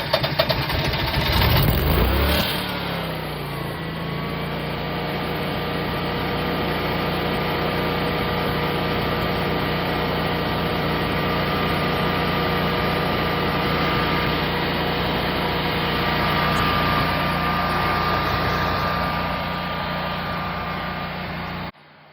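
A Generac standby generator cranks briefly, catches at once in manual mode, then settles into a steady, loud, even running drone that holds for the rest of the clip.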